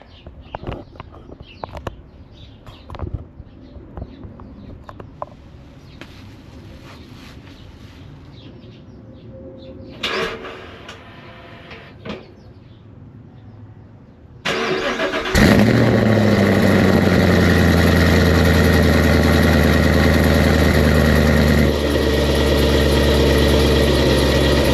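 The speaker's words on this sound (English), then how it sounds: "So now I'm gonna give you guys a cold start." A 2016–2024 Chevy Camaro, fresh battery just installed, fires up from cold around mid-clip with a loud catch and rev, then settles into a steady, strong idle that continues close by; soft handling noises and faint birds come before it.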